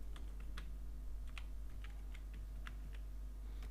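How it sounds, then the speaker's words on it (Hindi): Keys tapped on a computer keyboard while typing text into Microsoft Word: scattered, quiet clicks in an uneven rhythm over a steady low hum. "तो लिख के इंटर प्रेस करें"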